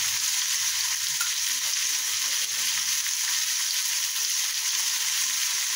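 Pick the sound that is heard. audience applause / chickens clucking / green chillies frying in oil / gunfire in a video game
green chillies frying in oil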